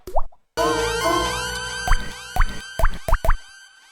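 A plopping, water-drop-like sample auditioned as a jazz hi-hat in FL Studio, sounding as a string of quick bright plops with pitch sweeps over a sustained tonal bed, played alone without voices.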